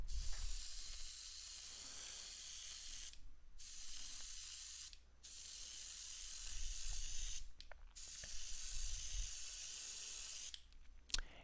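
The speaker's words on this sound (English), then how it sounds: "because it's coming from the airbrush, it pretty much dries instantly as soon as it hits the page" A steady, close airbrush hiss sprays paint onto paper, running in long continuous bursts broken by a few brief pauses, with no voices.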